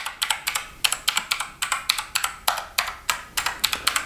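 Rapid typing on an inexpensive Chinese mechanical keyboard, a steady run of sharp, close clicks and clacks in quick irregular bursts with brief pauses, heard alone without talk.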